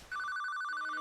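A telephone in the video game Shadow of Destiny rings with a rapid electronic trill, one short burst of bright warbling tone heard alone and close.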